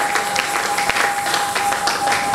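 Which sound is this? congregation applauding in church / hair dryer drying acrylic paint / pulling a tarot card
congregation applauding in church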